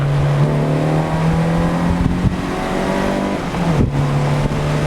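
A Citroën Saxo VTS driven in second gear under full throttle, the engine roaring loud and steady from inside the cabin with a rising tone and a brief dip near the end as the gear changes.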